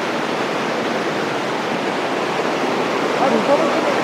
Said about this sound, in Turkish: Şuraya bak şelalelere.